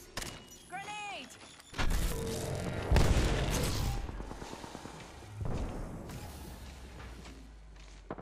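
Grenade blasts in an Apex Legends firefight: several heavy booms land in turn, each with a rumbling tail, mixed with gunfire and in-game voice chatter.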